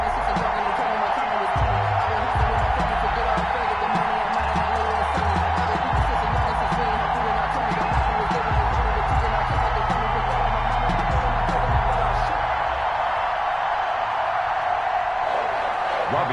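Sold-out stadium crowd roaring steadily in a Patriots versus 49ers football video game on PS4, a dense continuous wash of cheering under low rumbling, with no clear gaps.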